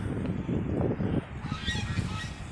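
Ducks call in a busy, overlapping chorus of honks and quacks, steady and fairly close, with a brief stretch of sharper higher calls partway through.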